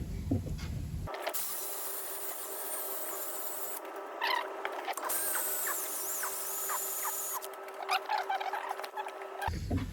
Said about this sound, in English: these are always real good for cleaning out axle for axle bushes